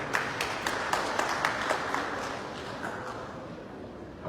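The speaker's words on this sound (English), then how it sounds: "Please clap for her again." An audience at a panel event on financing Liberia claps continuously, a dense steady spread of hand claps that slowly fades toward the end.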